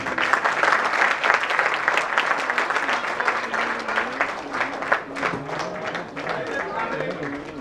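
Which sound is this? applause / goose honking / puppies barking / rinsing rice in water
applause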